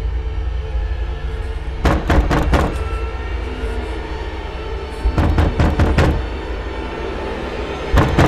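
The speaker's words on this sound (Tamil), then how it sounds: "நீ ஏன் கதவு தட்டுற?" Knocks land on a door at night in a horror-comedy film scene, sharp raps in clusters of three or four, repeated several times over a steady background rumble.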